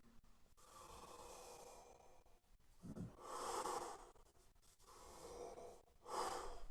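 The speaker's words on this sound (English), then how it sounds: "So it's a completely different way of breathing." Close, audible diaphragmatic breathing: slow, deep airy inhales and exhales in long swells, with faint clicks between breaths and no talking.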